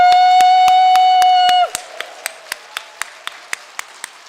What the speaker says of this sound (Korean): 그 성령님께 오늘 믿음으로 먼저 감사의 박수를 드리는데